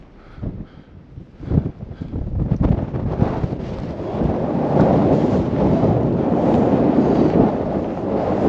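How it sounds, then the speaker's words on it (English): Strong gusts of wind roar and buffet the microphone on Mount Etna near the active crater, growing heavier and more constant as they go on, with no voices heard. "Super windy."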